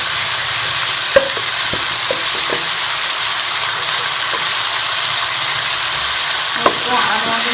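Potatoes frying with spices and tomatoes in a pan, a steady broadband sizzle running throughout with a few sharp spoon scrapes and clinks as the mixture is stirred, no voices.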